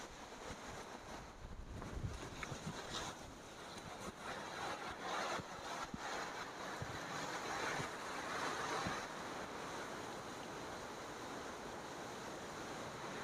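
Strong wind gusting across an open hilltop at Blue Bell Hill, a steady broadband roar buffeting the microphone throughout, rising and falling slightly with no voices.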